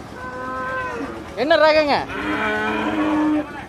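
A Kangayam Sevalai cow at a large cattle market in Tiruppur, Thenampalayam, gives one loud, close, rising-and-falling moo lasting about half a second, with livestock bustle around it and someone speaking briefly before the call.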